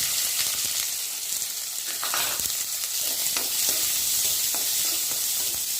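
Onions fry in a pan of hot oil for an aloo palak gravy, giving a dense, continuous close sizzle with faint stirring knocks underneath and no voices.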